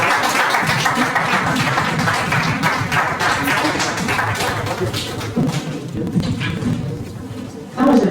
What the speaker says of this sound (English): That was a very short applause.